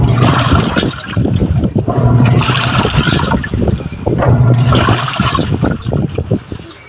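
Toshiba top-load washing machine agitating a wash load, loud close sloshing and gurgling water churning in rhythmic surges, with motor hum underneath.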